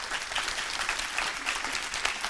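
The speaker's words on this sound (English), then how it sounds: "so please do give them a big round of applause" Steady, dense applause from an audience at a justice and peace assembly Q&A, a continuous wash of clapping hands at moderate level with no voices over it.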